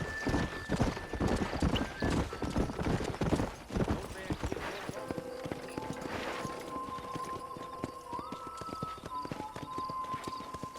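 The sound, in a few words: horse in video game Red Dead Redemption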